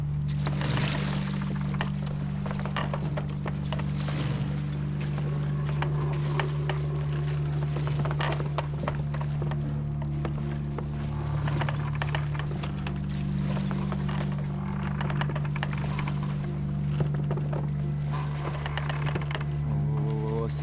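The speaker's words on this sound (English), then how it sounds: "It's just the creaking of the boat until he starts to speak." Steady low hum with soft, irregular creaks and knocks of a wooden boat shifting, continuing throughout without clear talk.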